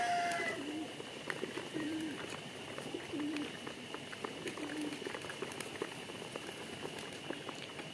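Hungry pigeons coo on a pigeon farm, soft low calls repeating now and then over a constant background of bubbling, pattering noise, moderately distant and fairly quiet.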